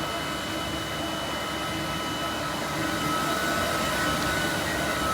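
A CNC machine running in a workshop making herb grinders, a steady loud whirring drone with a constant high whine that holds throughout with no pauses.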